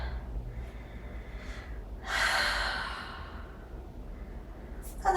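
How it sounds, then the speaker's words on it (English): A single deep exhale through the nose and mouth during a yoga session, breathy and moderately loud, rising then trailing off, with a short sharp intake of breath near the end. "And exhale all the stress."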